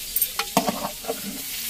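Okra stirred and frying in a pan, a few scraping clinks of the spoon against the metal over a soft sizzle, close and fairly quiet, with no voices.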